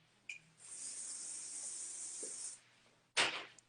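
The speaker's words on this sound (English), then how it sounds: "Yeah, a bit of wax spray." Wax hair spray hisses from an aerosol can in a steady burst of about two seconds while a curled half-up hairstyle is finished, followed by a short, sharper second spritz, with quiet background between.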